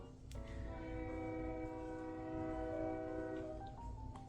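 A train horn blows in a long, sustained tone a short distance away, holding steady for several seconds over a low rumble.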